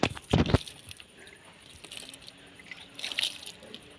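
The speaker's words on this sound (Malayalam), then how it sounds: "വെള്ളം ഒഴിച്ചു അപ്പം ആ വേര അയിമാണ് ഇങ്ങോട്ട് വരും" Water is poured onto a newly planted rose in garden soil: a short splashy gush at the start, then faint trickles and drips, close and quiet.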